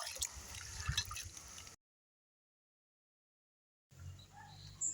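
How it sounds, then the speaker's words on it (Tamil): Soaked chickpeas being rinsed in water for vada, with dripping and trickling water in two stretches separated by a silent gap. "கொண்டக்கடலை ஒரு 4 மணி நேரம் ஊற வச்சு இந்த மாதிரி அலசி எடுத்துக்கலாம்."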